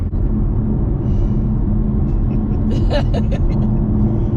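A supercharged Camaro SS engine in quiet exhaust mode gives a steady, loud low rumble from close by throughout, with a few faint brief sounds higher up near the end.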